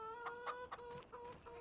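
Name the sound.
chickens clucking in video game Farming Simulator 25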